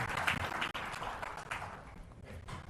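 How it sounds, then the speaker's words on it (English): Applause from the audience at a presentation event for the Managing Director of the Musi rejuvenation corporation, a steady broadband wash of many hands clapping at moderate distance for about three seconds. "May I request a huge round of applause to you for the Managing Director of Musi"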